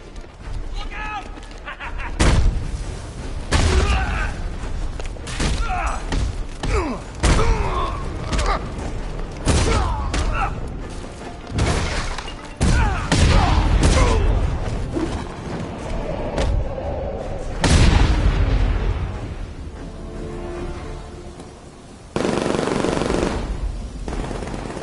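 Gunfire in Batman: Arkham Knight, loud bursts of shots and heavy impacts going off repeatedly throughout, mixed with voices and game noise.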